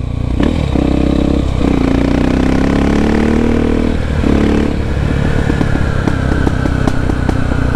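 Honda XR Tornado motorcycle fitted with a Belparts Classic exhaust, running loud and close with a steady engine drone, brief rises in pitch and crackling, popping pulses toward the end.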